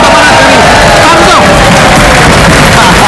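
Loud crowd cheering and applause at a Sundanese family quiz show, a dense, sustained mix of clapping, whoops and shouting voices.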